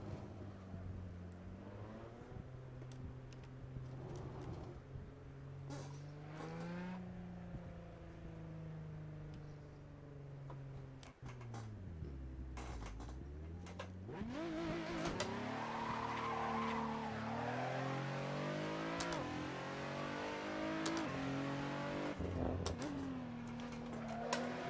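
A car engine in an Assetto Corsa racing game mod at a Goodwood Festival of Speed hillclimb revs up and down through gear changes, a smooth rising and falling drone with tire squeal, steady and close.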